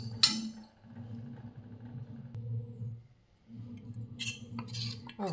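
A spoon stirs maida batter with water in a bowl, producing close, faint scraping and a low rubbing swirl that pauses briefly, with a sharp clink at the start and clatter near the end, no voices.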